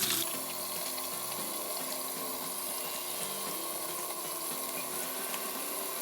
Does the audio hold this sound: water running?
yes